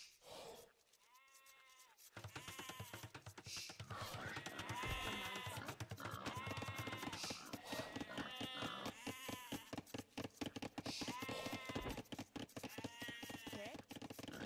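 Sheep bleat in Age of Empires during a competitive Aztec versus Viking match. The bleats are repeated and wavering and come in a steady string over a looping game soundtrack, fairly prominent, with a brief quiet start.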